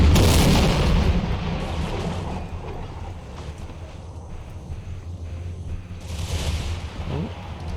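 Rifle volleys crack and boom in a multiplayer Napoleonic-era battle in the Empire 2 mod, as Dutch riflemen fire. There is a loud burst at the start, and scattered shots and rumbling battle noise continue through the rest.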